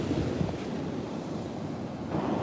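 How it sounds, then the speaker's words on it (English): Ocean waves break on a sandbar in a steady, broad rushing wash of surf mixed with wind buffeting the microphone, continuous and fairly loud throughout. "where that wave's breaking"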